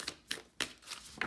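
A deck of animal spirit oracle cards is shuffled by hand in quick, quiet bursts of papery riffling, four or five short crisp swishes spaced about a third of a second apart.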